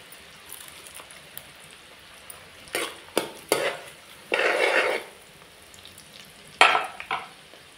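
Chopped onion frying in a pan for a Malvani mutton curry, stirred with a spoon in several scraping bursts over a soft sizzle, with ginger-garlic paste going in; brief clinks of utensil on pot, no talk.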